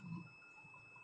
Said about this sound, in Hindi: कंटिन्यूटी के साथ बीप की आवाज़ आ रही है। इसका मतलब ये शॉर्ट है।